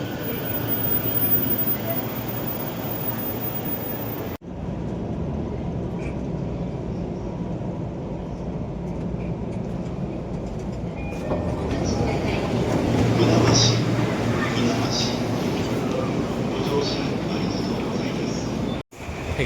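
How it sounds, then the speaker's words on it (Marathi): A train pulling into a busy Tokyo station on a commuter route, a broad rumbling roar that swells louder in the second half over crowd murmur, with a brief break partway. "ट्रेन आली आता मला"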